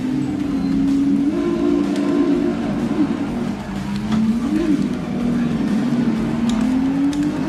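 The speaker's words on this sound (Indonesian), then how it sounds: "Cukup baik Jod mengendarai mobilnya" Race cars in a racing video game hum along with a continuous rising and falling engine whine, steady and mid-loud, beneath a commentator talking.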